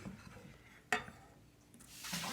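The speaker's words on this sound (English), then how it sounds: "what we're gonna do is add the butter." Butter dropped into hot salted brown butter caramel sauce: a single soft clunk, then a quiet, rising hiss of sizzling bubbling in the pan, close and faint with no talking.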